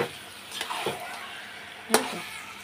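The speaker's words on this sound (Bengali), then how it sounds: "চিকেনটা ততক্ষণে একটু কষিয়ে নেব" Chicken being sautéed in a pan for a Bengali chicken kosha, with quiet frying sizzle under a few sharp scrapes and stirring knocks of a spatula, heard close and fairly soft.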